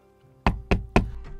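Three firm knocks on the wooden door of a small house, heavy and evenly spaced, followed by a fainter fourth, close and alone with no talk.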